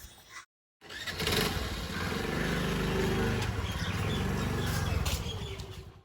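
A Honda Activa 110 cc scooter engine starts and runs while riding, a steady, close, buzzing drone after a brief gap, holding at an even level before easing off at the end.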